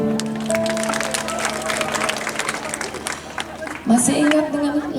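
Crowd clapping and cheering at a live band carnival show at the Art Center in Bali, a dense steady wash of applause with a voice talking over it and music tones entering near the end.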